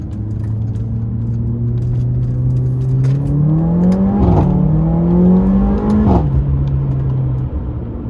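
Mercedes CLA45 AMG with 265 kilowatts pulling hard from inside the cabin, the engine note climbing steadily through two gear changes with loud, close rumbling tone and brief dips at each shift.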